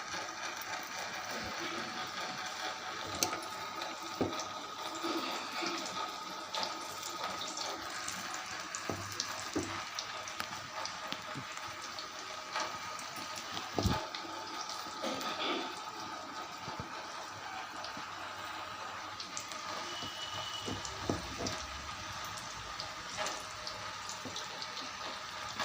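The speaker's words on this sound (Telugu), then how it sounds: "ఇలాగైతే ఒక్కొక్కటిగా మరిగిన నూనెలో వేసుకోవాలి" Drumstick leaf bondas deep-frying in hot oil, a steady close hiss and crackle of bubbling oil that runs throughout with occasional sharper pops.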